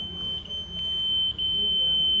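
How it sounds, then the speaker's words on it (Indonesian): A buzzer driven by a 555 timer IC in an analog electronics project, wired as a warning light with an LED, sounds a steady, loud high-pitched electronic tone that continues unbroken. "bisa dilihat LED dan buzzer itu terus-terusan berbunyi dikarenakan adanya pulsa dari IC 55 tersebut"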